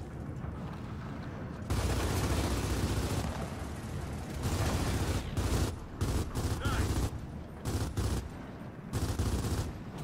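Gunfire from blind firing in the Gears of War 4 versus mode video game: dense, sustained bursts of rapid shots hammering on in loud clusters with short gaps, close and heavy.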